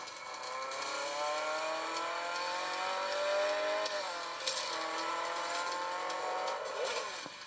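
A car engine roars continuously in a mobile racing game played on a Huawei P9 Lite 2017, its pitch climbing and dropping through gear shifts, with brief tire squeals and impacts near the end.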